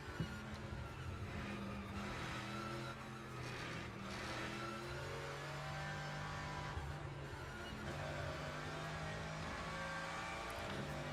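A Mercedes GT3 race car engine in the video game Le Mans Ultimate drones at a steady, fairly quiet level, its pitch rising and falling with throttle and gear changes.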